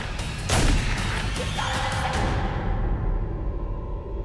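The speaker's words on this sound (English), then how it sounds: "she fired a few pot shots at him" Gunshots in a crime reenactment, a sharp heavy blast near the start followed by a long reverberant rumble that fades out, loud and alone with no voices.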